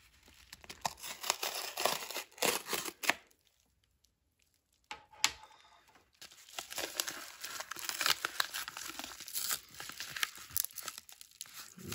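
A mail package holding a graded Pokémon card is torn and opened, giving close crinkling, ripping and rustling of paper and plastic in irregular bursts, with a short quiet pause midway.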